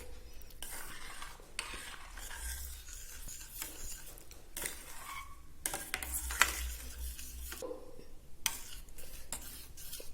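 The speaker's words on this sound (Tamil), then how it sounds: "பாலை சேர்த்து நல்லா கலக்கியாச்சு." Boiled milk being stirred into rice porridge for a baby, a spoon scraping and swishing through the thick mixture in repeated close strokes with short pauses between bursts.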